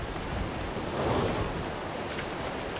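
Steady roar of a waterfall in the video game ARK: Aberration, a dense broadband wash of falling water heard continuously at fairly close range, with no voices over it.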